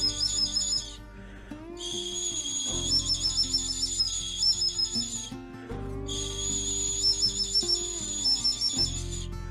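Ancient bird-bone whistles found in northern Israel sound in two long, shrill, warbling phrases that mimic calls of birds of prey, layered with lower tones and close and bright.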